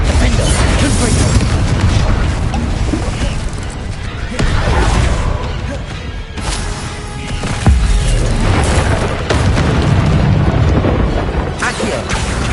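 Spell explosions and booms from Confringo being cast in Hogwarts Legacy fill the scene with continuous loud, rumbling blasts and crackling bursts that barely let up.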